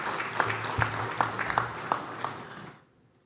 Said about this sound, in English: A round of applause to the presenters.